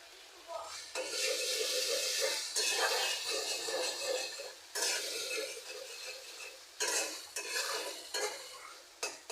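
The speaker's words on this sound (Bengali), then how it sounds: "ভাজা হতে থাক" Bhorta ingredients frying over low heat in a pan while being stirred, with bursts of sizzling and scraping that rise and fall in several uneven waves, fairly close and moderately loud.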